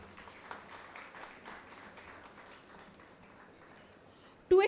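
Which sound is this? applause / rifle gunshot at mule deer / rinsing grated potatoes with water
applause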